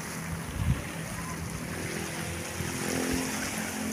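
Surf at Maruni beach in Papua is heard as a steady wash of waves blended with wind buffeting the microphone, fairly loud and continuous, with no talk.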